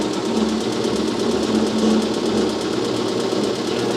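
A Sellers 6G drill grinder regrinds a bit with coolant running, giving a loud, steady mechanical drone with a faint rhythmic pulse and no pauses.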